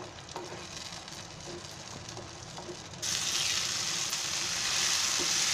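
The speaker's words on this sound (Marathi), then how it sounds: "ते मस्त आपलं फ्राय झालंय बघा" Tomato masala frying in oil for paneer tikka masala bhaji, a dense continuous sizzle that swells abruptly louder and brighter midway and keeps hissing steadily, close and without speech.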